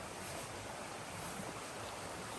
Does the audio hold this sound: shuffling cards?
no